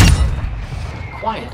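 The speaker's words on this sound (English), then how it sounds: "Hostile mortar strike near your position." Mortar strike explosion in the video game Call of Duty Modern Warfare II, a heavy low boom at the very start that rumbles and fades out, with a faint voice-like tone near the end.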